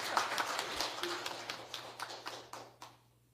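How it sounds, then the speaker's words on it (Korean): Church congregation applauding its pastor, a short burst of scattered hand claps at a steady brisk rhythm that thins out and fades to quiet within a few seconds, with a faint hum underneath. "우리 목사님 박수 한번 쳐주세요"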